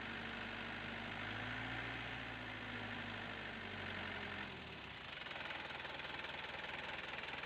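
A Nissan Big M red-head diesel pickup engine runs close by with a rough knocking drone that rises as it is revved, then drops back to idle partway through.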